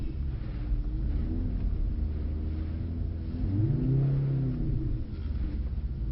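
A Mercedes-Benz four-wheel-drive car on a slippery track day circuit at Brooklands, engine droning steadily then swelling into a rising rev midway before easing off, heard from inside with no talk.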